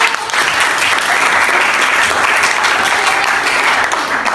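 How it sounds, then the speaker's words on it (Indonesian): A school class applauds together, with loud, continuous, even clapping from the pupils filling the room for a few seconds. "Oke, tepuk tangan."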